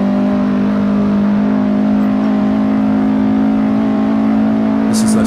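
A 1960 Porsche 718 RS Spyder engine drones loudly and steadily on the 1967 Nürburgring Nordschleife in Assetto Corsa, a sustained close racing note holding near-constant pitch, with no voices.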